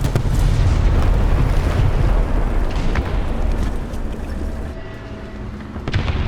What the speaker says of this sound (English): Artillery coming in on me.